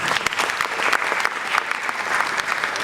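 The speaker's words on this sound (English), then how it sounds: "Please can we give them a round of applause?" An audience at a Nigerian panel event breaks into a steady round of applause, dense clapping from many hands sustained for a few seconds, heard alone without speech.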